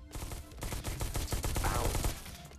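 A robot fires an energy rifle in the VR shooter Robo Recall: a rapid burst of sharp, loud, repeated shots, like automatic fire, running through the whole moment.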